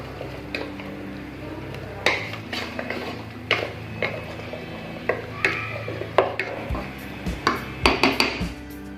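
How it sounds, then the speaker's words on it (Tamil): A spoon scraping and knocking against a metal pot while mutton curry with ground masala paste is stirred, giving irregular close clinks and scrapes over a low background hum. "இப்போ இதை நல்லா மிக்ஸ் பண்ணிக்கலாம்."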